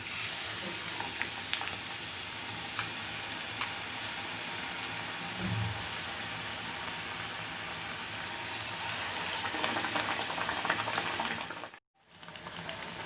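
Raw banana slices coated in batter deep-fry in hot oil as bajji, giving a continuous rain-like hiss and crackle that holds steady, then cuts out briefly near the end.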